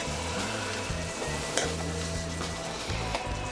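Lasagna meat sauce seasoned with salt and black pepper, sizzling loudly in a pan while being stirred, with steady frying hiss and a low electrical hum underneath, no voices.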